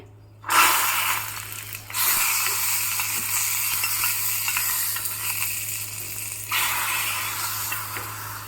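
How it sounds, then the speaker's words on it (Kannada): Mustard seeds, chili, asafoetida and curry leaves sizzle loudly in coconut oil and ghee for a Mysore-style tilisaru tempering. The hiss is close and steady, with fresh bursts as ingredients hit the pan, and no talking. "ಹಾಕಿಬಿಟ್ಟು ಒಗ್ಗರಣೆ ಹಾಕ್ತಾಯಿದ್ದೀನಿ."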